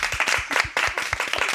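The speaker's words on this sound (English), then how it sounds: "Can we do one more round of applause?" A small gathering at a story slam gives a round of applause, loose rhythmic clapping close by with individual hand claps standing out over a softer background of hands.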